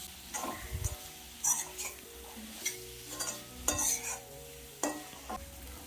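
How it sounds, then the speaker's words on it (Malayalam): Fried potatoes being stirred into an egg curry in a pan, with a string of scraping, clinking stirring strokes and a soft sizzle underneath, close and moderately loud. "ആ ഉരുളക്കിഴങ്ങ് കൂടെ ചേർത്ത് കൊടുക്കാം എന്നിട്ട് നല്ലതുപോലെ മിക്സ് ചെയ്യണം"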